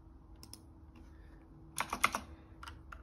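Quick, faint taps on a computer keyboard while numbers are entered into a paystub form, forming a short cluster of keystrokes in a quiet room.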